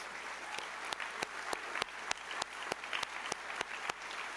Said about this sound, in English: I ask you to join me in a round of applause for my good friends and clients, Josh, Maureen, Brianna, and Deborah